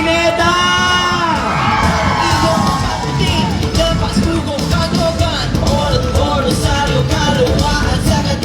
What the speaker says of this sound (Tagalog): Isang malakas na hiyawan, Pineda!